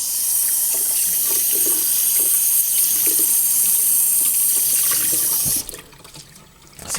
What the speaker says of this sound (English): I'm going to wet this sponge again a little bit more